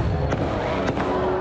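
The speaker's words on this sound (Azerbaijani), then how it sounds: "Konsert atəşfəşanlıqla sona çatıb." Fireworks closing an outdoor holiday concert for the June 15 National Salvation Day celebration in Samukh, heard as two sharp booming bursts over a dense, continuous crowd and crackle wash.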